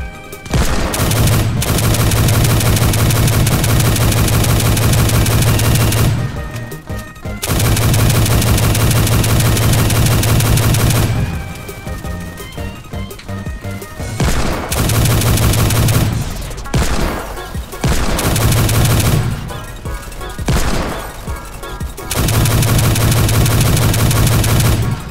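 Rifle fire in the Roblox game Base Battles, with loud, dense bursts of rapid shots repeating across the stretch, broken by several short quiet gaps and an underlying engine-like hum.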